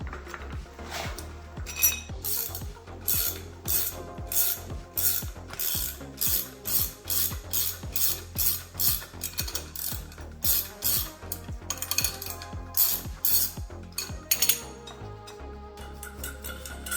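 A blind puller is worked to remove the centering sleeve from a BMW 330xd E92 driveshaft, making a rapid series of close metallic ratchet clicks in uneven bursts that tick steadily throughout.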